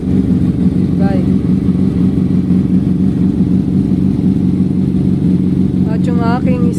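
A Kawasaki 650 motorcycle engine runs steadily and close by, a continuous droning hum throughout, with brief voices over it.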